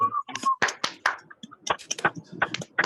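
Online Toastmasters meeting participants unmute and clap, producing a burst of scattered, uneven claps and taps from several people at once. An opening whistle-like tone and brief vocal sounds mix in.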